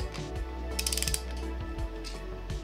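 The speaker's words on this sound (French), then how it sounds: "on va serrer tranquillement à 28" A ratchet wrench clicks close by while tightening cylinder head bolts on a Nissan 350Z engine, with a quick burst of rapid clicks amid slower mechanical turning.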